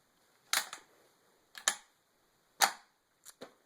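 An Ishapore Lee Enfield rifle bolt being reassembled gives a few sharp metallic clicks and snaps as parts seat into the rail. The clicks come close up in small clusters, with no talking.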